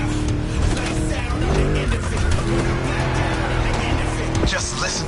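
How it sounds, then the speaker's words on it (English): A V8 car engine in the racing game Crew Motorfest roars steadily and loudly at speed through the whole stretch, with some tire noise mixed in and no talk over it. "Just listen to that V8, like a chunky, down-tuned guitar riff."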